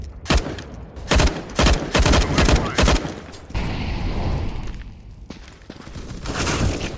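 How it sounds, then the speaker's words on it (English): Gunfire in the shooter game CS:GO comes as loud bursts of rapid shots, close by, then a broader blast and rumble in the middle, as from a flashbang going off, before more firing starts near the end. "Deploying flashbang."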